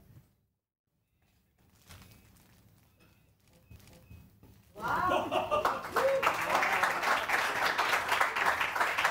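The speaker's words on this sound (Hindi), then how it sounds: "इन दोनों के लिए बहुत सारी तालियां" Studio audience on a Pakistani morning show bursts into loud, sustained applause with scattered cheers, rising sharply after a quieter stretch of murmuring and light clapping, then continuing dense and steady to the end.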